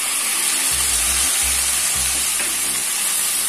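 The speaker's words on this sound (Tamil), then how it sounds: "அதையும் நல்லா வதக்கணும்" Onions and tomatoes sautéing in a pan for tomato chutney, a constant hissing sizzle with a few low stirring scrapes at intervals, close up and with no voices.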